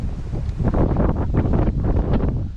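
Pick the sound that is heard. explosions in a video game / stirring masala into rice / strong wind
strong wind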